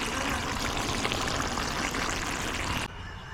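Duck adobo sa gata simmering in a pot at a steady, rolling boil, a dense continuous bubbling and hissing heard up close with no talk, cutting off abruptly near the end.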